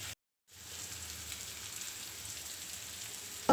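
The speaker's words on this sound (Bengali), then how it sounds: "তখন এটা খুব ভালোভাবে নেড়ে চেড়ে ভেজে নিব" Bitter gourd (karela) fries in a pan at medium heat, giving a soft, steady sizzle and crackle with no talking after a brief silent gap at the start.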